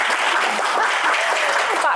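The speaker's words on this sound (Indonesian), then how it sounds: "tepuk tangan dulu buat pemanasan dulu" Studio audience at an Indonesian Q&A broadcast applauding as a warm-up, a steady dense wash of clapping at close range that fills the whole moment, with a few voices mixed into it.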